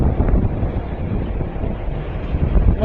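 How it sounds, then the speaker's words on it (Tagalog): Strong wind roars steadily against the microphone outdoors, a loud continuous buffeting rumble with no pauses and no voices over it. "Sobrang hangin dito."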